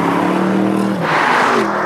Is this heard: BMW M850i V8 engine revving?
yes